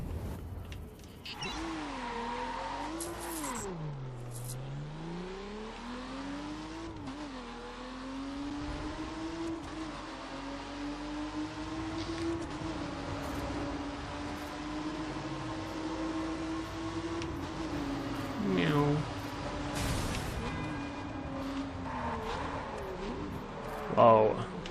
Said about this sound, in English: loving the sound of the gears changing